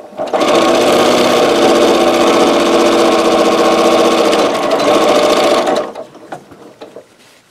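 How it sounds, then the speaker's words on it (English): A sewing machine backstitches through a fabric potholder in one continuous, loud, fast mechanical whir that runs for several seconds and then stops abruptly, leaving a few faint clicks and handling noises. "Back stitching, I mean."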